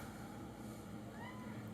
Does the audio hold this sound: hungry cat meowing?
yes